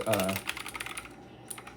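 Keys tapped on a Black Shark gaming keyboard, a short burst of quick clicks close by that thins into lighter, sparser taps.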